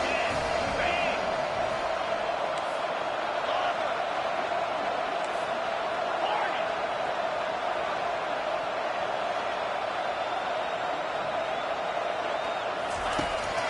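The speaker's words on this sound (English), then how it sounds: "Listen to this crowd begging its defense to get a stop." Sustained roar of a Texas vs Mississippi State football stadium crowd urging its defense for a late stop, loud and continuous with scattered whoops and claps rising out of it.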